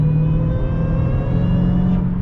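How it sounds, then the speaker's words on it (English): Supercharger whine from an 888 hp Dodge Hellcat XR widebody, a steady high-pitched whir riding over a loud, constant engine drone, close and continuous with no talking. "the supercharger whine is very loud"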